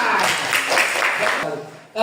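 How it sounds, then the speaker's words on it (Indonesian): A class in an Indonesian school lesson breaks into applause, a dense spread of clapping that carries steadily for about a second and a half, then fades, with a voice rising right at the end. "Ya, tepuk tangan."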